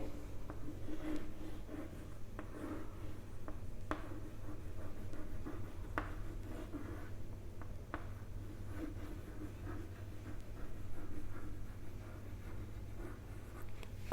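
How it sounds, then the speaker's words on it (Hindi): Chalk or marker scratching across a board during a biology lecture, faint intermittent strokes and taps over a low steady room hum, with no talking. "हम लिखते हैं"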